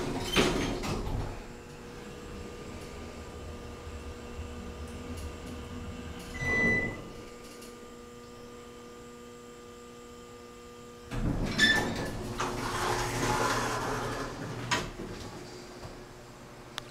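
Otis elevator doors at a residential villa building sliding shut, a brief rumbling slide near the start followed by quiet hum, then another longer door movement and clatter later, heard close inside the car without talking.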